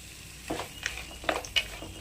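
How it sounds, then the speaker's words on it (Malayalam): Cashew nuts tossed into ginger-garlic paste frying in a pan while making restaurant-style butter chicken, giving soft sizzling and a few light stirring clinks, faint and close. "ഇനി നമുക്കിതിലേക്ക് ഒരു നൂറ് ഗ്രാം കാഷ്നട്ട് ഇട്ട് കൊടുക്കാം"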